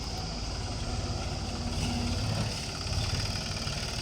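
Tractor engine idling steadily at a cement bricks factory while being readied to unload, a close, continuous low rumble with even throbbing and no voices.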